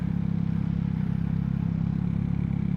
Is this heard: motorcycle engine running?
yes